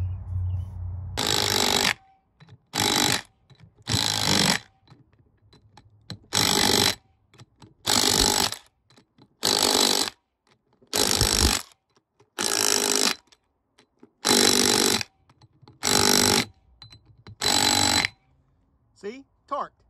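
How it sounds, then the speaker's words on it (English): An impact wrench tightens ring gear bolts in about ten loud, close bursts of rapid hammering, each a second or so long and separated by short pauses. "give her the old Ugga-Duggas from the impact"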